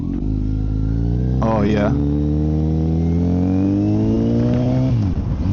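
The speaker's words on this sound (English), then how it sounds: "just pulling out, taking off in first gear" Kawasaki Z900 with a full M4 exhaust and ECU flash pulling away in first gear: a loud, close engine drone climbs steadily in pitch before dropping near the end, with a rider's brief voice over it.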